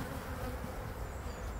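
Honey bees buzzing around a hive as its boxes are swapped and set back in place, a steady, dense drone of many wings, close and continuous with no voices.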